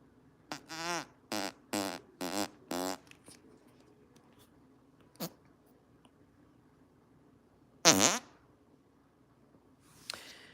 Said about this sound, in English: We want you to fart for my sister. And I do.